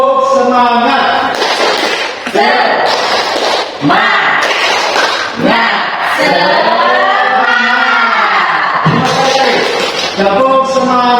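A school classroom of students performs a rhythmic spirit clap, tepuk semangat, with loud group chanting punctuated by sharp bursts of clapping in a repeating pattern.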